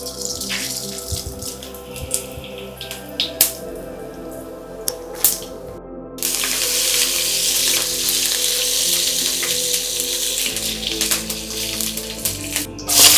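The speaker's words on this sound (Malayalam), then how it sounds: "അല്പം എണ്ണ ഒഴിച്ച് ആദ്യം നമുക്ക് കടുക് താളിക്കാം" Mustard seeds crackling in a little hot oil as the tempering for a Kerala chicken thoran, a steady close sizzle with sharp pops and clinks that swells louder midway and keeps spluttering without any voice.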